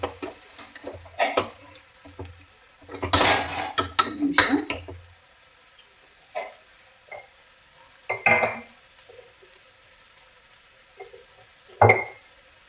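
Sprouted horse gram mixture fries in oil in a pan while a spatula stirs it, giving sporadic scraping and clattering bursts against the metal with quiet gaps between them and a light sizzle.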